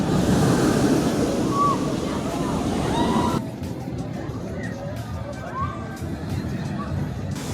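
Splashing water features at a theme park near the Abyssus roller coaster at Energylandia, a steady broadband wash of falling water with wind, louder in the first half and softer after, with voices talking.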